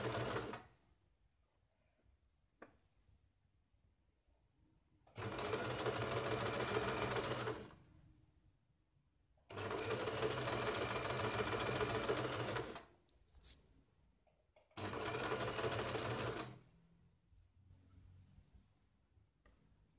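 Sewing machine stitching a sleeve onto a garment runs in three steady, even bursts of a few seconds each, close and clear, separated by near-quiet pauses with small clicks.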